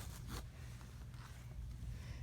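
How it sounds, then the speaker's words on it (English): An invisible zipper on a fabric pillow cover slides open in a short, close scratchy run, with a brief brighter burst at the start and then quieter rasping as it continues. "It might make it easier for me to open the zipper now that I've got this placed in order to pin the rest of the zipper."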